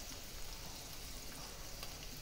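Onion and shrimp with turmeric sizzling steadily in a pan over a light flame, a soft continuous crackle at low level with no pauses.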